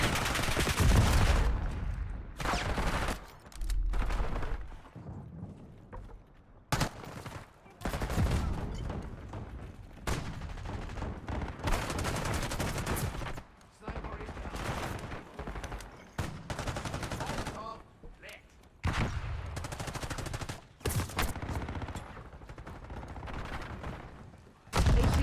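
Video game gunfire: loud bursts of shooting and heavy booms come in clusters across the whole stretch, broken by brief lulls, and radio-style voices talk over part of it.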